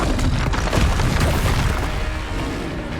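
A Confringo spell explosion from the Hogwarts Legacy video game bursts with a loud, rumbling boom that rolls on and slowly fades over a few seconds.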